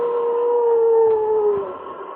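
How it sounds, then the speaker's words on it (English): A dog howls at the sky in a wintry Yukon setting, one long sustained wavering howl that holds steady for about two seconds and then tapers off, loud and close. "then he raised his head to the sky and howled."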